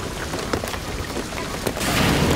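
Steady rain falls in the video game Shadow of the Tomb Raider, a dense, continuous hiss that swells slightly louder near the end, with no talk.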